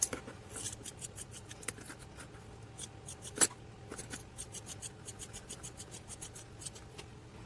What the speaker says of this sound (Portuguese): E aí eu vou cortar.